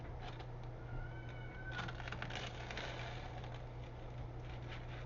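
A cat meows faintly a couple of times in a homestead kitchen, thin calls rising over a steady low household hum, with no one talking.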